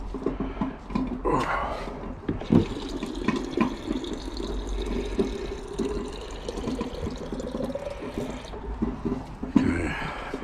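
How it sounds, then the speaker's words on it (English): Water runs from a tap into a rinse bottle, a steady close splashing and gurgling stream lasting the whole stretch, with faint clatter and shifting flow near the end. "let's get some more water in my"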